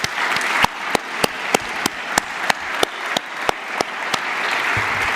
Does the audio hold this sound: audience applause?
yes